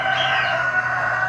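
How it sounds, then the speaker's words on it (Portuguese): A rooster crows at a rooftop terrace where roosters and hens are kept, a sustained, fairly loud, strained call of about a second with no talk over it. "Esses cocoricós vocês vão ouvir bastante."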